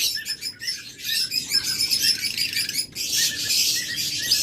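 Pet budgerigars, cockatiels and lovebirds chirp together, a busy overlapping chorus of high tweets and squawks, close and steady throughout with no talking.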